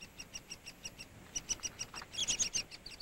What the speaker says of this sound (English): Here lives the ladder-backed woodpecker.